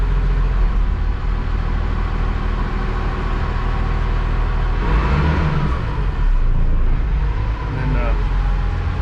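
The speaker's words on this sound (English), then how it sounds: "So now I've got to put it in gear and obviously come a bit backwards first." The engine of a boat fitted with an emergency tiller runs steadily in gear while reversing, a loud, continuous low rumble close by with a brief swell in the middle, and faint voices mixed in.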